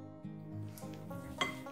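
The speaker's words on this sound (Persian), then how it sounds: "برای اینکه مطمئن بشم با لیسک هم دوباره همش میزنم" A spatula stirs cake batter in a bowl, giving soft scraping and a few light clinks against the bowl, quiet and close with no talk.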